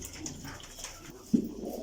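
Tumbler pigeons cooing softly nearby on a farm, a low throaty murmur with one fuller coo toward the end.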